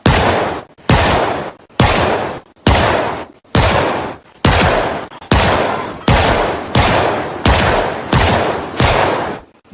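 Loud gunfire bursts in a video game, repeated roughly every second in sharp, evenly spaced volleys, each cracking and then decaying, as players shoot at zombies.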